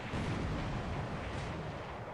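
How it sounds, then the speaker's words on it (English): An internal explosion aboard a warship in the naval game War Plan Orange rumbles as a dense, low, sustained roar filling the whole clip at moderate level, with no speech over it. "Internal explosion."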